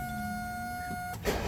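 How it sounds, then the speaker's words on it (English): Power window motor on a 1984 Mercedes 300D, a steady whine running for about a second before it stops with a short clunk, close and fairly quiet. "All of the windows work."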